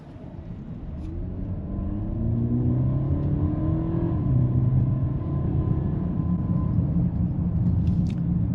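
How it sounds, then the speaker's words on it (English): A 2025 Mercedes GLE 450e plug-in hybrid SUV accelerates in hybrid mode: a steady, moderately loud low rumble and whir with a slowly rising engine tone, heard from inside the cabin without talk. "Let's go back to a hybrid setup and accelerate and see how this does."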